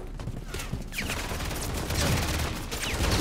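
Rapid bursts of gunfire in Call of Duty Zombies, dense overlapping shots and automatic fire continuing throughout at close range and fairly loud.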